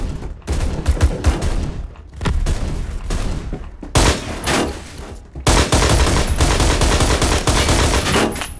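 Rapid automatic gunfire in the shooter game Phantom Forces, loud and close, with bursts of rattling shots broken by short pauses before a long sustained volley, no talking heard.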